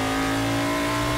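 A front-engined GT Legends race car in Assetto Corsa revs hard with a loud, steady, tonal engine note, close and alone.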